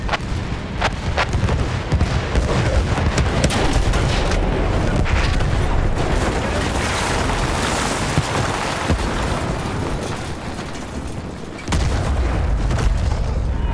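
Artillery fire in the Battlefield 1 video game: a dense, continuous rumble of heavy booms and blasts, loud and crowded, with a fresh surge near the end and battlefield noise throughout.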